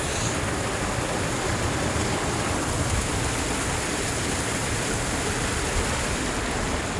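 A steady, dense rush of falling water on the mountain trek toward Jogini Falls, loud and close, with no breaks or voices.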